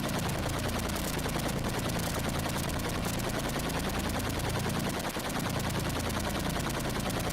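Rapid, sustained machine-gun fire from a helicopter in the 1985-86 Atari 8-bit game Super Huey, a dense, unbroken chatter that runs loud and constant for the whole stretch with no pauses.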